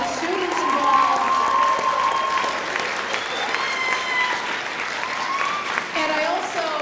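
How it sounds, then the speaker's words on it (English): Applause from a high school audience at an evening event, a sustained clatter of many hands clapping with some cheering mixed in that fades gradually toward the end, with voices audible underneath. "I want to give a huge round of applause to the students involved"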